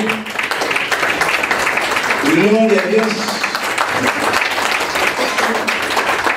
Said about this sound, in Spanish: Denme un aplauso a nuestro Señor, por favor